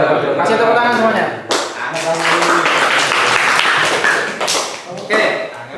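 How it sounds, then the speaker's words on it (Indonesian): A classroom audience claps after a group presentation during a teacher performance test, a dense steady patter of hands with voices mixed in throughout. "Kasih tepuk tangan semuanya"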